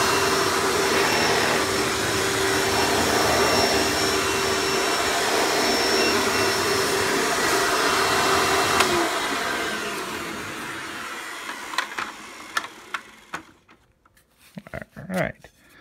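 Hoover Elite U5095-930 upright vacuum cleaner running with the crevice tool, a loud steady whine and roar that holds for about nine seconds, then winds down into scattered clicks and handling knocks.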